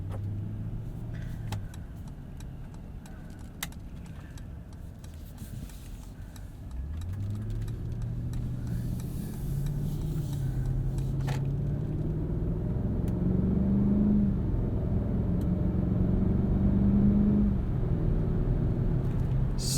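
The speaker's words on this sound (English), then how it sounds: "And of course we have the Mercedes 48-volt mild hybrid system to augment this 4-liter biturbo V8." A 2021 Mercedes-Maybach GLS 600 with a 4-liter biturbo V8, 48-volt mild hybrid and 9-speed gearbox, driving; a smooth, low engine hum rises steadily in pitch through gear changes, quiet and continuous from the cabin.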